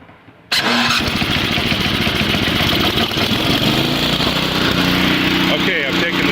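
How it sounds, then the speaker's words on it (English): A snowblower engine cranks briefly, catches and starts, then settles into a loud, steady close-up running drone with no talk. "this button here will crank the engine"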